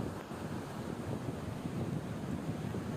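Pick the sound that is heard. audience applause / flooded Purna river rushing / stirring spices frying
flooded Purna river rushing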